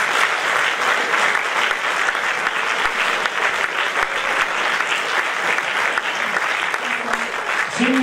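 Warm, continuous crowd applause for a singer at a charity evening in Castelfranco Emilia, loud and unbroken throughout, with a voice briefly speaking at the very end.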